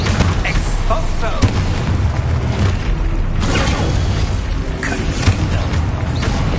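Spell explosions from Expulso in Hogwarts Legacy, a dense run of loud booms and crackling blasts layered over continuous game battle noise, with a spoken spell incantation mixed in.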